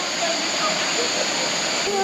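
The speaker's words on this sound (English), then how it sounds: "that seems to be the waterfalls there" Mookanamane Falls seen on a Patla Betta visit: a steady, broadband rushing roar of falling water, continuous and even throughout, with faint voices in the background.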